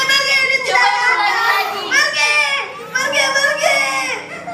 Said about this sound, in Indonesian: Ibu masih mendengar suara tangisan bayi.